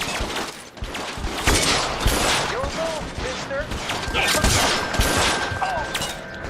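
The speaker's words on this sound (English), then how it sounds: "Where are they shooting at?" Gunfire in the 1940s Los Angeles detective game L.A. Noire, a dense, continuous fusillade of shots and impacts filling the scene throughout, with a voice speaking over the shooting.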